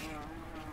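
Bees buzzing in the video game Smoke and Sacrifice: a steady, close insect drone with a sustained hum, held evenly for a short moment with no talking over it.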